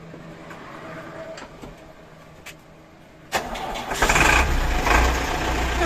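A 2020 Tata 909 dump truck engine cranks and catches on the first try at about 3.3 seconds, then settles into a loud, rough diesel idle close by, rising slightly after the start.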